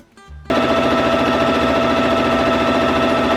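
A sewing machine stitches a 1 cm side seam on a satin bias-cut midi skirt, starting after a short pause and then running as a loud, steady, fast mechanical whir with no talking.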